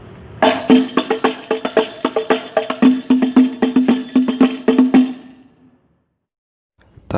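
Banjari hadroh frame drums struck in a combined pattern, a quick, steady run of crisp slaps and deeper booming strokes, close and loud, ending in a fading ring and then silence.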